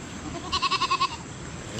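A young horned goat, tame and on its own away from the herd, gives a single short quavering bleat of several rapid pulses, close and clear.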